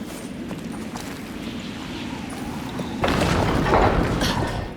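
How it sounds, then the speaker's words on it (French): Crank turning and a portcullis grinding open in the video game A Plague Tale Requiem, a low rumbling mechanical drone that swells into a heavier, louder grinding surge in the last seconds. "Elle ouvre la herse."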